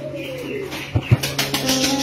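A sick pigeon kept indoors during rain gives low, soft coos with two brief louder bursts near the middle, over a faint steady background hum and some scattered noise.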